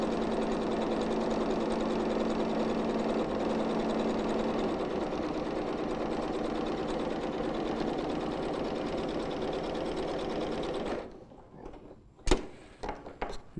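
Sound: sewing machine stitching boning channel

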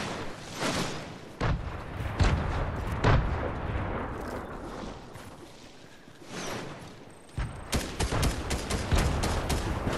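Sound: grenade explosions in Fortnite video game

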